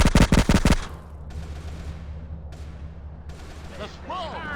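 A short, loud burst of rapid gunfire in GTA San Andreas, several sharp shots in quick succession, then a low ambient hum with faint distant sounds.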